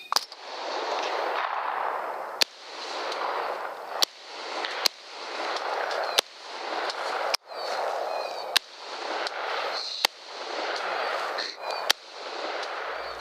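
Sharp rifle shots crack out at intervals, about seven in all, during a night coyote hunt, each followed by a long rushing hiss of wind or handling noise.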